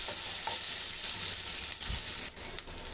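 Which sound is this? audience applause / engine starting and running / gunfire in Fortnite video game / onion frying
onion frying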